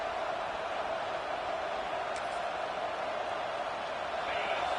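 Steady crowd roar from a football video game stadium, a continuous broadband wash of cheering that holds evenly throughout with no distinct individual voices.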